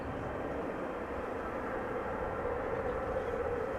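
Small propeller airplane on the cargo platform at Amsterdam Schiphol Airport, a steady broadband engine drone held at an even, moderate level for a few seconds with no voices over it.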